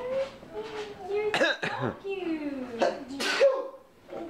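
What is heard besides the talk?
sneeze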